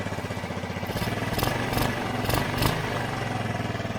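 A Honda Elite 150 scooter engine running while its throttle is opened by hand, a steady close putter with a few brief revving surges in the middle.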